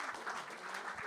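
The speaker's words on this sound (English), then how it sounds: "Let's give the girl a huge round of applause." Applause from an audience of women cricketers at an interaction event, a steady wash of clapping lasting about a second at moderate level, with no voices over it.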